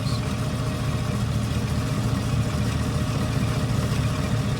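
A Chevrolet engine idling during a 6L80 transmission fluid check, a steady low rumbling drone that is loud and unbroken throughout, with no voices.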